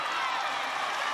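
Spectators cheer at the Italy v Wales Women's Six Nations rugby match in 2023, a brief, dense, steady roar of crowd noise.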